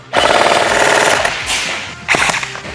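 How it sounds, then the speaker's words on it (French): An airsoft AEP, a small electric pistol, fires a quick rapid burst of clattering shots, followed by a second shorter volley about two seconds later, close and loud. "une petite rafale pour commencer"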